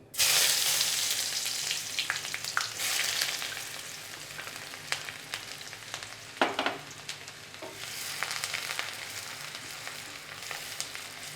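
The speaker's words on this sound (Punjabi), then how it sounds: "ਅਸੀਂ ਪਿਆਜ਼ ਪੁੰਨ ਰਹੇ ਹਾਂ" Onions sizzling in hot oil in a pan as a tadka for dal makhani, a continuous bright crackle with occasional stirring scrapes and spoon knocks, close and alone.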